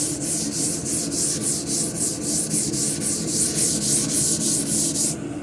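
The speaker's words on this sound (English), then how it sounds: "I'm gonna hold the camera with one hand and sand with the other." Steady close-up hand sanding of primer with P400 sandpaper on a DuraBlock, an even rhythmic scratching of back-and-forth strokes that runs continuously without talk.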